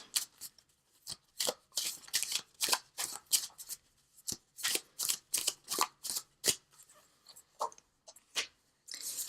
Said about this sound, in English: let's pull a visionary card from Knafo, just for some added guidance